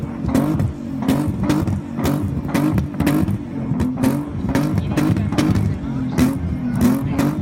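A classic Ford Granada's engine revs hard and close, in a rapid series of sharp throttle blips over a continuous rumbling idle, each rev rising and falling in quick succession.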